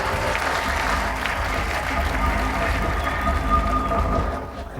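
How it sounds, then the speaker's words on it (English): A studio audience applauds at a televised robot-combat event, a steady wash of clapping for several seconds that fades slightly at the end. "Give him a round of applause."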